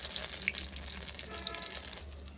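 Pointed gourd (potol) stuffed with spiced gram-flour filling fries quietly in oil over a clay stove, giving a soft, even sizzle with a few faint pops.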